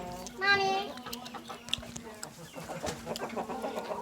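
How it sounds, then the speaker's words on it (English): A hen gives a short squawking cluck near the start, followed by softer clucks and chatter from chickens, with people talking quietly in the background. "And then we have these chickens."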